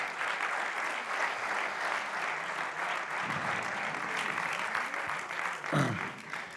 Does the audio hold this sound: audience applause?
yes